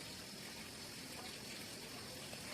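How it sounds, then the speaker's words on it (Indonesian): Water gushes steadily from an opened tap, a constant broadband rush at close range with no pauses and no voices. "Setelah itu buka kembali keran, diamkan hingga mengalir beberapa saat."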